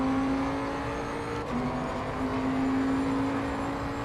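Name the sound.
GT3 race car engine in Assetto Corsa Competizione video game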